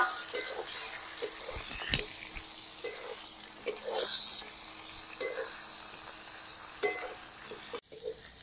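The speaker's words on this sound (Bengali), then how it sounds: "এই তেলে এবার বেগুনটাও ভেজে নেব।" Brinjal frying in oil already used for frying fish gives a continuous close sizzle and hiss, broken by regular scraping and tapping from stirring in the pan.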